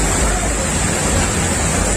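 River water rushes steadily at a picnic spot on the Kopili, a dense, continuous broadband wash with no breaks, loud and close.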